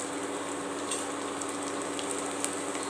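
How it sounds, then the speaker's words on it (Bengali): Whole cumin, black pepper and chopped garlic sizzle in hot oil, a close, steady crackle and hiss with occasional small pops throughout and no talking. "তেলটা গরম হয়ে গেছে, এবার এর মধ্যে আমি দিয়ে দিচ্ছি গোটা জিরে আর গোলমরিচ"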